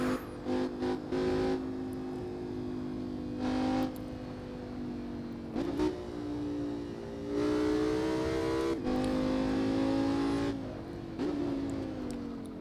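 Race car engine in Assetto Corsa revving through a very short rev range, its loud buzzing drone rising and falling in repeated bursts with brief lifts between, steady and close throughout.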